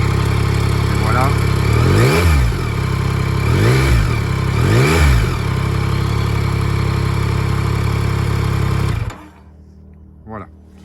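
A Yamaha Tracer 9 GT+ motorcycle engine idles loudly and revs up three times in quick swells, then cuts off abruptly, leaving near silence with a faint brief sound.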